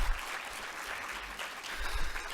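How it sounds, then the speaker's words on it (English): An auditorium audience claps in steady, dense applause, fairly quiet and distant-sounding, with no talking over it. "Everybody give her a round of applause."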